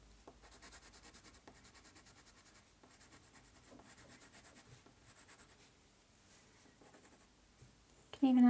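A white coloured pencil is layered lightly across paper in steady repeated back-and-forth strokes, a soft close scratching with brief pauses between passes and a louder bump at the very end.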